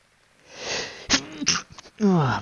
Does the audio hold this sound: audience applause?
no